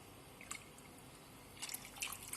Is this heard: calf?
no